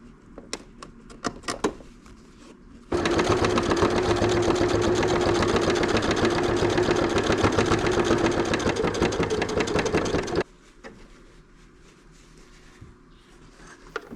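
A sewing machine stitches small fabric scraps, running fast and steady for about seven seconds with an even mechanical hum, framed by quiet handling clicks and rustles before and after.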